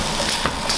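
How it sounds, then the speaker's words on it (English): Bok choy stir-fried in a pan with lobster and shrimp quinoa, a dense, steady sizzle with faint scraping of stirring, close and continuous for under a second. "you're gonna add your bok choy, and you just"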